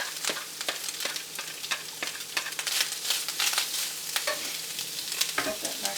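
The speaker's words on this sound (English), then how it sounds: "I'm going to add my ground beef in there" Ground beef fries with onions and peppers in a pan, a continuous close sizzle broken by repeated scraping stirs of a utensil against the pan's surface.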